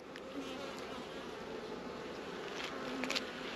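Honey bees buzz around a beehive outdoors, a low, continuous hum with individual bees flying close past now and then, fairly faint and with no talk over it.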